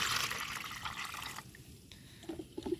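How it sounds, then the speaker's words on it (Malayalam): One litre of water pours in a rushing stream into a container for over a second, then stops, followed by a few faint drips and small knocks. "നമ്മൾ 1 ലിറ്റർ വെള്ളം ഇതിൽ ഒഴിച്ചാണ്"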